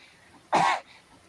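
A single short, harsh cough, loud and close, comes from a short film being played, with a faint background hum around it.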